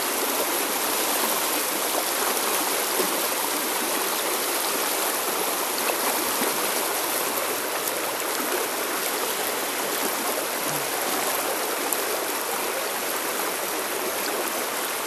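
A small stream flows steadily nearby, a constant broad rushing and gurgling wash of water that stays even and fairly loud throughout, with no voices.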